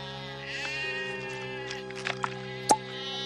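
A goat bleats once, short and loud, in an animated Bible-story scene set among shepherd brothers, standing out over a sustained musical drone with a few faint soft sounds before it.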